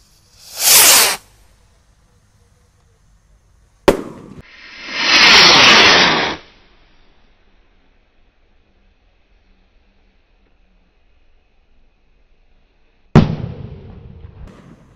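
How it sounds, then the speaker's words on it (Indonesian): Gold Dragon roman candle rocket fireworks launch outdoors in separate loud bursts: a brief whoosh, then a sharp crack followed by a longer roaring hiss lasting about two seconds, silence, and another sharp crack near the end. "Roket siap meluncur."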